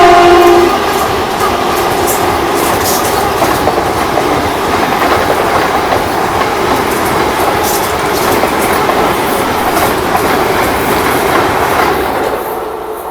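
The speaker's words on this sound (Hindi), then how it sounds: "ओवरटेक करने को तैयार है 20-172 रानी कमलापति वंदे भारत एक्सप्रेस" The 20172 Rani Kamlapati Vande Bharat Express overtakes at about 130 km/h, a loud, close, continuous rail roar with a horn at the start and rhythmic clickety-clack throughout.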